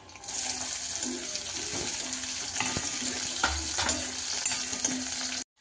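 Onion dropped into hot oil with tamarind for a dry Sukat (dried shrimp) dish gives a steady broadband sizzle, with a few louder spatters and stirring clatters throughout; no one speaks.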